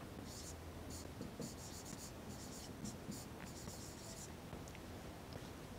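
Pen or chalk scratches out a perimeter solution for a sixth-grade maths problem, a faint, steady scratchy writing sound in short strokes with quiet room noise underneath.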